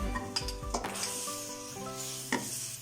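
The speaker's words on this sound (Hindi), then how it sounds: "अब हम कढ़ाई में सबसे पहले घी शामिल करेंगे और घी को गर्म कर लेंगे" Ghee heats and sizzles in a kadhai, a steady close frying hiss with a few stirring scrapes and clinks over it and no voices.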